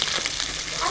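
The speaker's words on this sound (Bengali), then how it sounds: "ওই তেলে ফোড়ন দেবো কালো জিরে" Black cumin seeds sizzling in hot oil as a tempering for a Bengali pabda fish curry, a brief, dense, steady crackle close by.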